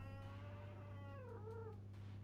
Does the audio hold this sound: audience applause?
no